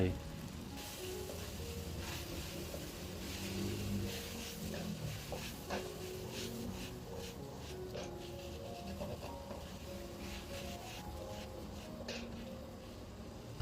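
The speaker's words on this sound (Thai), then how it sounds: "ผัดให้เห็ดสุก" Enoki mushrooms stir-frying with pork in a hot pan, a steady soft sizzle with faint scraping and stirring, low and continuous, under a quiet voice.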